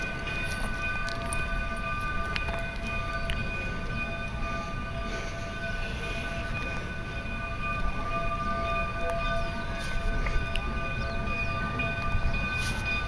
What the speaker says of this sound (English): The train's right here.